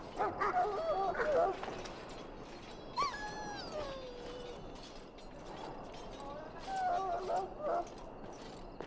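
A dog in Dragon Age: Origins gives short, high whimpers and whines in two bursts, first at the start and again near the end, over quiet ambient sound. A brief vocal-like swoop comes in between.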